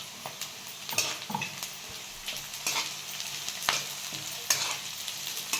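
Peanuts stir-fried in a pan with cumin, mustard seeds and chillies for a village-style upma: a steady low sizzle broken by half a dozen sharp scraping strokes of a spatula, with no talking.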